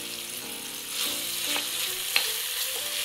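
Onions and garlic fry in olive oil and rendered sausage fat, a bright continuous sizzle up close with a few light stirring clicks and scrapes, with no one talking.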